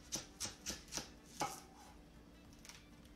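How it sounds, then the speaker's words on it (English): A knife cuts through a leek on a board in a few crisp, close chops at a quick, even rhythm, followed by a short faint scrape and a couple of softer taps in an otherwise quiet room. "I think we're going to just cut it in half. So this is a leek."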